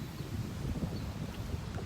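Strong wind gusts across open water during a fall kayak bass fishing trip, a brief steady rumbling buffet on the microphone, low and continuous, with no voices.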